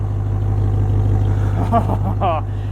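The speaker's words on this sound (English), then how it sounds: "Listen to that exhaust." 2021 Ram 1500 TRX truck exhaust, a deep steady engine rumble heard from inside the cab while driving on the street, with brief human sounds near the end.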